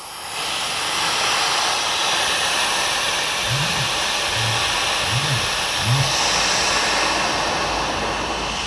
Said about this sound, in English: I'm gonna release the pressure with the red valve